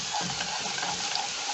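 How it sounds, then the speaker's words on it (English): Garlic frying in a pan ahead of beef and potatoes, a steady close sizzle with faint stirring clinks running under it, no voices. "We let the garlic cook for a minute or two"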